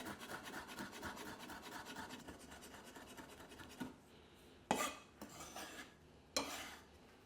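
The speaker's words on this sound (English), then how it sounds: "Some garlic. Finely chopped." A knife works through finely chopped garlic on a board, a steady soft scraping rasp that gives way to a few sharper knocks and scrapes near the end.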